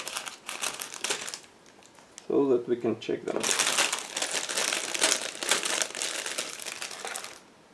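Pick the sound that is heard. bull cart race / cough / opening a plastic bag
opening a plastic bag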